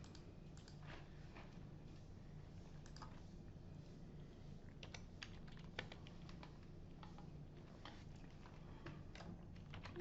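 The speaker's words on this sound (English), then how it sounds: "Getting kind of tired of typing." Quiet, irregular clicking of a computer keyboard being typed on, in short bursts with brief pauses.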